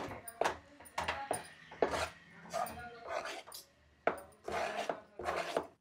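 Pokundalu dough is stirred and mixed in a pan with the stove turned off, producing rhythmic, rasping scrapes in steady strokes, about one every half second, fairly close and moderately quiet.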